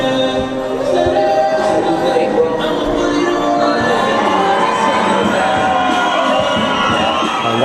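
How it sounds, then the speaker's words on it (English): A large audience at a bodybuilding guest appearance cheers and shouts wildly, a loud, sustained roar of voices and whoops that holds steady from start to finish. "the crowd's going nuts."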